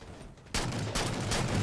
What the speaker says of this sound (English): Great grenade by my teammate right there.